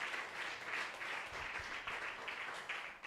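Congregation applauding during a church sermon, a steady wash of many hands clapping throughout, fairly even in loudness with no talk over it.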